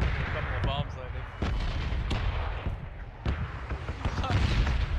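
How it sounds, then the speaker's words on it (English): Bombs landing in PUBG: a series of dull booms and cracks scattered across the clip, some near and some distant, over steady low rumble, with faint voices partly masked underneath. "A couple of bombs landing."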